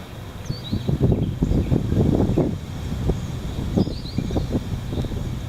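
Heavy wind blowing steadily and loudly, with gusty low rumbling buffeting across the whole stretch and a few faint bird chirps high above.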